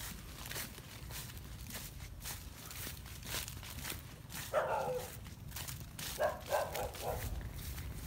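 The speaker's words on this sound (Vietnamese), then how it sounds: "Tại sao hè nhà người dân có chó sủa." A dog barks near a rural riverside house, a few short muffled barks heard at a distance amid steady outdoor noise and footsteps.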